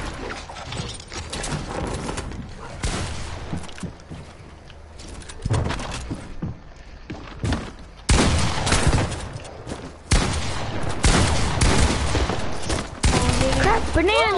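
Shotgun fire and mechanical clatter in a video game, with repeated loud blasts in dense bursts over a busy, noisy background and a brief voice near the end.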